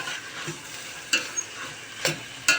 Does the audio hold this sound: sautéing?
yes